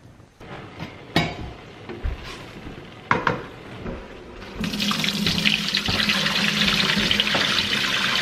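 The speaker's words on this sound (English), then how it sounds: "So we'll get this water going." A few light clicks and clunks, then a faucet opens and water runs steadily and loudly into a sink for the rest of the clip.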